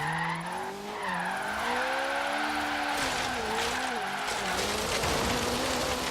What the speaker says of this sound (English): Lots of wheel spin in first gear, nothing in second gear.